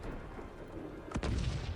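A cannon shot booms in the strategy game Cossacks 3, a single deep thud arriving after a stretch of low battlefield rumble and leaving a heavier rolling roar behind it.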